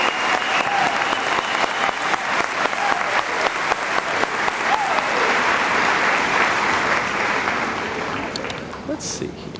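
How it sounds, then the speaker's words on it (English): Sustained applause from a commencement audience for graduating senior scholars, dense, even clapping that swells and carries on for several seconds before easing off. "If we could please give a round of applause for our graduating senior scholars."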